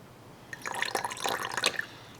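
Base solution poured into an indicator liquid in a glass, a close, soft trickling splash with drips lasting about a second and a half, no voices.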